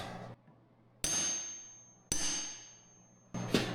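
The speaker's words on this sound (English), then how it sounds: "you put this in here and you smack it with a hammer, and as it drives in, it turns" Hammer striking a manual impact driver on the rear brake rotor screws of a 2009 Honda CR-V: three sharp, ringing metallic clangs spaced about a second apart, each decaying with a bright ring, close and loud, no talking.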